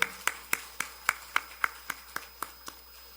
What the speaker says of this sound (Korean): 우리 다시 한번 하나님께 감사의 박수 한번 올려드리겠습니다.